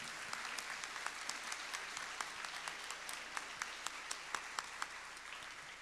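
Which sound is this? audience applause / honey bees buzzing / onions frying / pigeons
audience applause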